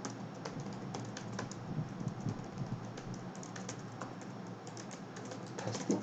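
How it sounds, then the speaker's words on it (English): Someone types text on a computer keyboard, quiet rapid key clicks in an uneven patter over soft room noise, with no voice heard. "And I'm going to just type something here, testing,"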